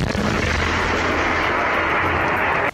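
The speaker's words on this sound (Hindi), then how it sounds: "रूसी सेना ने एक इलाके में एक के बाद एक कई रॉकेट दागे, जो तेज आवाज करते हुए टारगेट की तरफ निकले" Russian army rockets fired toward targets in Mariupol, a loud, dense roaring blast that holds steady for nearly three seconds before cutting off abruptly, with no voices.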